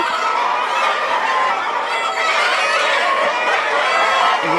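Hybrid laying hens about 200 days old clucking and chattering continuously, a loud, dense flock sound close by with no pauses.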